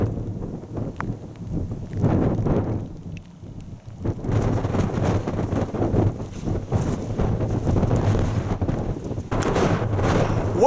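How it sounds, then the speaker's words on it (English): Wind and rain on an exposed hill summit at West Nab in the Peak District: loud, continuous buffeting gusts rumble against the microphone with a steady wash of rain, no voices. "Despite the wind and rain,"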